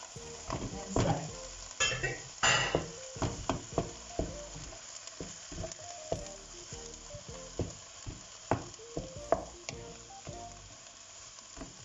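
Ground meat for a meat pie frying in oil, a steady crackling sizzle broken by louder bursts and clatters as it is stirred around the pan.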